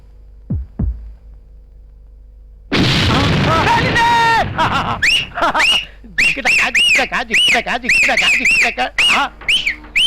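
In a Telugu comedy scene, after two faint knocks, a sudden loud blast erupts, followed by excited voices talking and shouting over each other.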